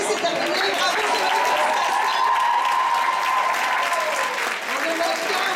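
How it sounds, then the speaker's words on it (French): A live audience claps steadily for a performer named Zoé, dense and sustained applause filling the whole stretch with a faint undertone of chatter beneath it. "Oui, on applaudit Zoé"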